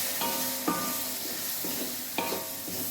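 Mackerel pickle masala is stirred in a pan with a little vinegar, giving a low sizzle under two distinct scraping strokes of a spoon against the pan, close and moderately loud.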